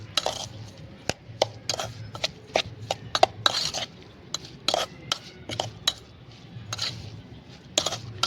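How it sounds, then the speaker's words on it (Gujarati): A spoon mixes raw mango chutney in a bowl, giving irregular sharp clinks and soft scrapes against the dish, close and moderately quiet over a faint background hum. "તો આને આપણે ચમચીથી મદદથી મિક્સ કરી લેવાનું."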